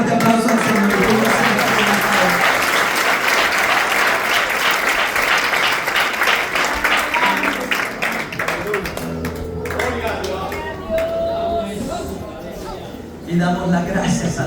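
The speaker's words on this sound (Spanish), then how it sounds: "Damos ese fuerte aplauso al Señor." A church congregation gives loud, sustained applause for the Lord, a dense roar of many hands that fills the room, then thins out while voices and some music carry on underneath.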